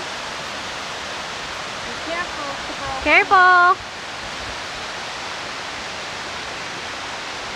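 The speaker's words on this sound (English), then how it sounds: "Look at how that comes cascading down through them rocks." Water cascades steeply over rocks at Tannery Falls in Savoy, Massachusetts, giving a constant broadband rush; a person speaks briefly partway through.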